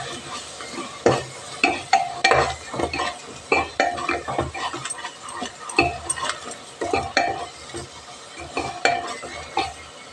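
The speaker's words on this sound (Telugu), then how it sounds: "కొంచెం ఫ్రై చేసుకుందాం." Mutton curry with garam masala and coriander stir-fried in a pan, with repeated scraping and clattering strokes of a spoon against metal over a steady sizzle, uneven in rhythm and close by.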